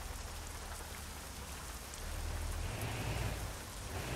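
Heavy rain pours steadily on surfaces in the trucking game Euro Truck Simulator 2, a dense continuous patter at moderate level that swells slightly louder partway through, with no talking.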